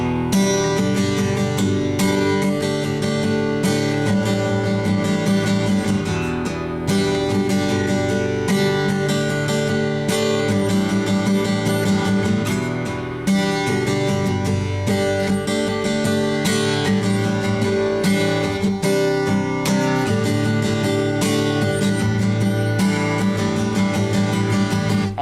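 A guitar strums the verse chords of a song in a steady, driving rhythm, full and continuous with repeated strums throughout, close and fairly loud, with no talking.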